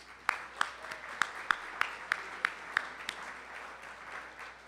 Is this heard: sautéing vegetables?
no